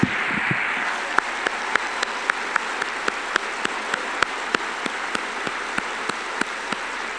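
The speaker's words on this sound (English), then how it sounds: "Please join me in a round of applause to welcome our new class of first-year medical students" Applause at a university medical school white coat ceremony welcoming first-year students, a steady wash of clapping from a large audience with sharp individual claps standing out, continuing without talk.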